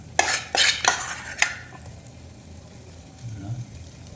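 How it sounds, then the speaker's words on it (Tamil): A metal spatula stirs potatoes frying in about 5 ml of oil for potato 65 fry, giving four sharp clinks and scrapes against the pan before settling into a faint, quiet pan hiss. "பாருங்கள், ஃப்ரை ஆகிட்டுருக்கு"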